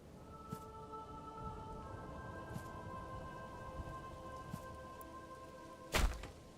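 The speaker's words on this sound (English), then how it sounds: "I wasn't expecting it to rain so early." Steady rain patters in a city-building video game over a low hum of soft music tones. Scattered faint thuds are heard, and a sharper burst lands near the end.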